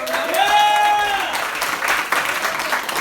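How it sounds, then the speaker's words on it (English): An audience at an improv and poetry show breaks into dense applause and cheering, loud and close, with a voice calling out over it at the start. "Give yourself a round of applause."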